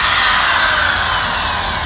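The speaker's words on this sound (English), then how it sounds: "we're gonna have to take the drill and drill around the outside of the hole to make it a little wider" A power drill widens the hole for the bolt of an outdoor faucet with a loud, steady, high whine of continuous grinding and no pauses.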